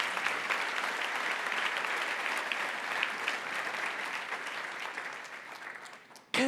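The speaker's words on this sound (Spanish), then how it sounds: "Dale un aplauso a Dios con todo tu corazón." A church congregation claps continuously in a moderately distant, steady round of applause that fades near the end and is cut off by a brief sound.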